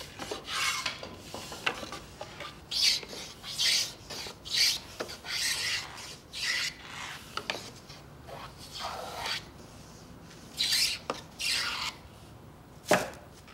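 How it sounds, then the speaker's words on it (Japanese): A Japanese chamfering plane with an adjustable fence shaving the corner of a piece of wood, with repeated rasping strokes in an irregular rhythm, close and fairly loud, with no talking. "定規付き角面取りガンナはカンナ台を定規にはめ込んで使うカンナで"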